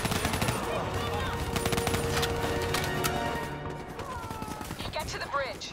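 Sustained automatic gunfire in the Call of Duty Black Ops 3 campaign, dense rapid bursts with scattered single shots and battle noise, tapering after a few seconds amid a chaotic firefight.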